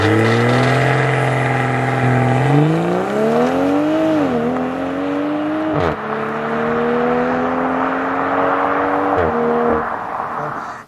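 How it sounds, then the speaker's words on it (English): A launch-control start in an all-wheel-drive car on Michelin tyres: loud engine revs climb steadily, dip briefly at each quick gear change, then keep pulling hard, close and continuous for the full stretch. "I'm going to show you a little bit what it looks like with the launch control."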